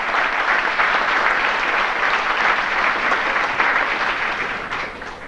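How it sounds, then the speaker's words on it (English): Audience applause fills a sports banquet hall, a steady dense wash of many hands clapping at close range that holds strong throughout and eases slightly at the end, with no talking over it. "how about a round of applause"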